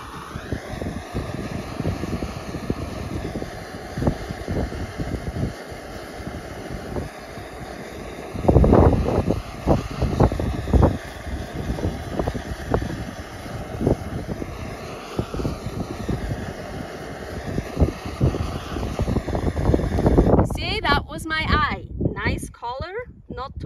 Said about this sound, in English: So it's quite windy here.